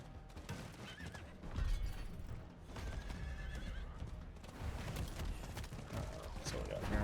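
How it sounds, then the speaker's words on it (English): A horse in Diablo IV whinnies loudly while hooves clip-clop in a quick galloping rhythm, the neighs rising over the steady hoofbeats near the listener. "Let's go ahead and get on our horse"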